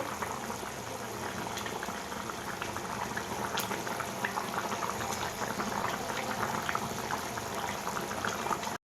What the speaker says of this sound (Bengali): চিকেনটা খুব ভালোভাবে ফুটতে শুরু করে দিয়েছে